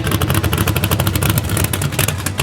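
Drag car engine built with Carrillo rods, a loud, close, rapid pulsing engine note that holds steady and crisp through the whole short burst.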